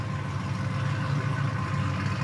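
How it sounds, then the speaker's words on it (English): A loud truck engine idles nearby outdoors at a research centre, giving a steady low rumble with no change over the short stretch. "this loud truck"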